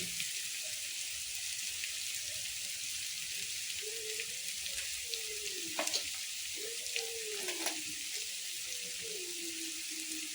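Chili masala with half a spoon of turmeric roasts in a pan for a vada pav chutney, giving a soft continuous sizzle with occasional stirring clicks, while faint gliding tones sound underneath.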